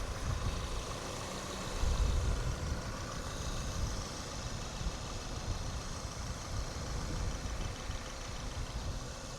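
A 2014 Subaru Forester AWD idles with the hood open, giving a steady, close engine rumble with a brief swell near the start before settling into an even drone.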